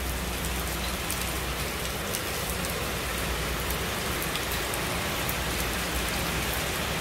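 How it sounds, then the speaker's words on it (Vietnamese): Steady rain falls and patters on a surface, a dense, even hiss that holds at a constant level the whole way through, with no talk. "mà giờ ông trời cũng mưa luôn rồi nè"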